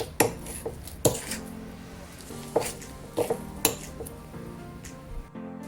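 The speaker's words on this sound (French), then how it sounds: "vous touillez votre pâte, vous la touillez bien jusqu'à qu'elle forme une pâte homogène." A utensil stirs mochi dough in a bowl, giving sticky swishing broken by several sharp clanks against the bowl at uneven intervals, close and alone with no talk.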